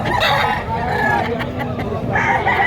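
Chickens clucking and a rooster crowing nearby amid a busy chicken market in Padre Garcia, Batangas, with people talking.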